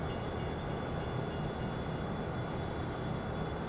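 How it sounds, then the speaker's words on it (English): A train running in the Farming Simulator 17 video game, a steady rumbling roll with a faint high whine on top, continuous and even at moderate loudness, with no talking. "let's run this train right on back down to our sell point"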